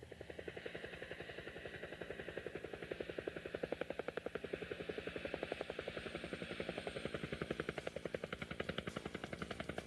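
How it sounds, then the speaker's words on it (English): Rotor chop from a fast, powerful helicopter in the video game High Roller Battle pulses in a rapid, steady rhythm throughout, continuous and fairly loud with a constant engine drone underneath. "This game puts you right in the cockpit of a very fast and very powerful helicopter."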